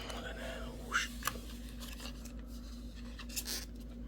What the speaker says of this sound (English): So all you do is you gotta cut right here, cut those tabs.